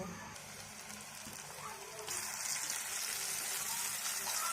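Chopped onions cooking in a pan in a home kitchen, a soft steady sizzle that grows a little louder midway, low and close, with someone speaking over it.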